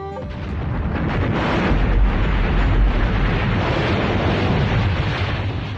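A dynamite bomb thrown into a hut in a film scene goes off in one deep, loud blast that swells and rumbles for several seconds before slowly dying away.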